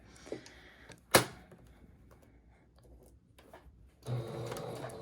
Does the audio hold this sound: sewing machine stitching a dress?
yes